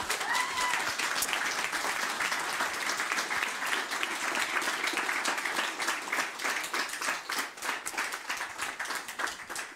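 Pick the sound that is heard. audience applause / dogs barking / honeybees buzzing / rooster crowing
audience applause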